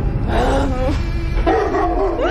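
A dog in a village at night gives a few yipping barks and whimpers, heard over a steady low rumble and background noise, with no clear voices over it.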